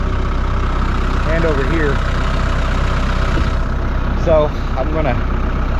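A farm tractor engine idles with a steady low rumble throughout while someone speaks briefly over it.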